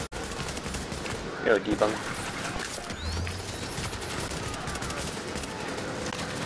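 Gunfire in the Division co-op shootout, dense bursts with a louder cluster of shots early on, heard under excited talk among players.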